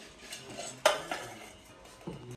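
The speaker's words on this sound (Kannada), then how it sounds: "ಕಡಾಯಿ ಇಟ್ಟೀನಿ ಒಗ್ಗರಣೆ ಮಾಡೋಕ್ಕೆ" A kadai (wok) is set down on a stove for tempering, with one sharp metallic clank near the middle and a few lighter clinks around it, close by and alone with no talking.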